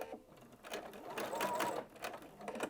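A sewing machine stitches lines of shirring on stretched fabric in short uneven bursts of rapid whirring that rise and fall, close and quiet, with no talking.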